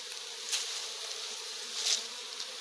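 A swarm of Italian honeybees drones during a honey harvest in the Brazilian backcountry, a close, steady buzz with a couple of brief louder swells as bees pass near, and no talking.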